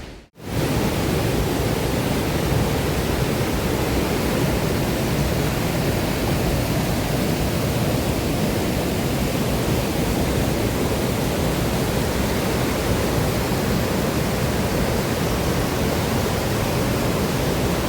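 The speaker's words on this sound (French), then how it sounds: "On entend encore le bruit de la cascade qui est juste à gauche là" A steady, dense roar of falling water fills the whole clip, loud and unbroken, from a waterfall close by on a mountain trail near Cauterets in the Pyrenees.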